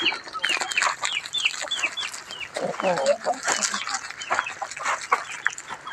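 Several chickens eating uncooked rice at a temple in Chae Hom, Lampang, cluck repeatedly close by, short rising calls in quick succession, with a voice speaking partway through.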